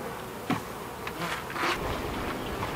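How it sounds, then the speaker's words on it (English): A steady buzzing drone of honey bees at an opened hive top with feeders, continuous and close throughout, with no speech. "I'm just going to get into the top of this hive and check out to see how those"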